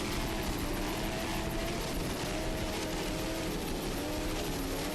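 A helicopter hovers overhead filming an offshore powerboat race, its loud steady rotor and engine drone continuous throughout, with boat engine noise blended in.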